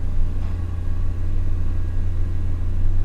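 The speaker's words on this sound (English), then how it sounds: "Just revving it up some more again." A VW A4 with an intermittent stalling fault, its engine revved while warming up, a close, loud low rumbling drone held steady for a few seconds.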